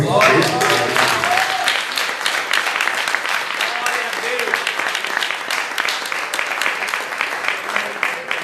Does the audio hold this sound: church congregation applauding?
yes